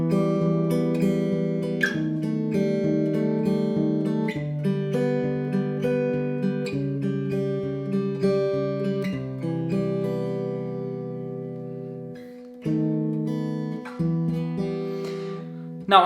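A guitar strums through a sequence of sustained chords, changing every couple of seconds, with a short gap near the end before a final chord rings.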